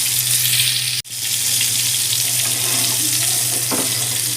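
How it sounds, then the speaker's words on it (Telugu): Chicken keema balls fry in a pan over medium heat with a loud, steady, close sizzle that dips for a moment before hissing on. "మరి హైలో కాకుండా మీడియం పెట్టుకొని అలా వేయించుకుందాం."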